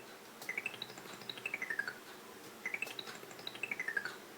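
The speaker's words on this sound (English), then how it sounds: "The weird, trumpety, flugelhorn style sound at the end, when all the air drains out." Manic Miner on the ZX Spectrum plays a trumpety, flugelhorn-like run of beeping tones as the air drains out, two quick descending sweeps of chirpy notes, each stepping down in pitch, fairly faint and alone.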